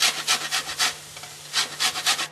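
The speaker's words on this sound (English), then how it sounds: "Now I'm just going to add some lemon zest." Lemon zest is grated for a lemon and pea risotto, making quick close rasping strokes in two bursts with a brief pause between them, over a faint low hum.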